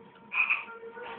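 A frog gives a single clear croak, close and alone, against a quiet background.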